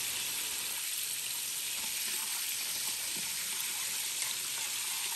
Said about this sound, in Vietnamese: Làm cánh gà chiên nước mắm,